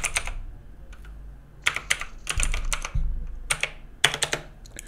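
Bursts of computer keyboard typing while a web search is entered on a Windows 10 PC, with quick clustered keystrokes in several short runs and pauses between them, close and clear with no talking.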